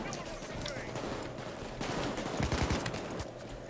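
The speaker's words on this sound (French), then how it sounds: "Faites gaffe, ça tire sur l'autre building." Gunfire in the video game Payday 2, a dense run of bursting shots and rapid automatic fire under continuous game noise, with a heavier cluster of shots late on, loud and close.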